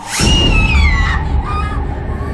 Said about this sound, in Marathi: ती पाणी न पिताच तिथून किंचाळत धावत बेडरूममध्ये आली